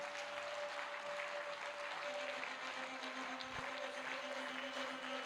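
A church congregation applauds steadily to acclaim God, a continuous wash of clapping from a crowd with a faint steady tone underneath.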